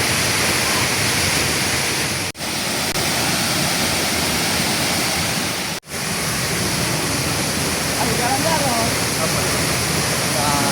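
Suban waterfall at Curup, Rejang Lebong roars as a dense, steady wash of falling water, loud and close, broken by two brief cuts.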